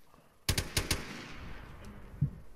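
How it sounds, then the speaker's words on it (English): A short burst of machine gun fire from a BTR in a military video game: about four quick, loud shots in rapid succession, followed by fainter distant reports and echo. "Taking sporadic fire from BTR and infantry."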